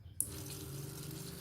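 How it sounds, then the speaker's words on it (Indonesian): Water starts flowing abruptly from an automatic Arduino-controlled pump with an ultrasonic sensor, then runs as a steady, faint splashing stream with a low hum beneath it. "air mengalir"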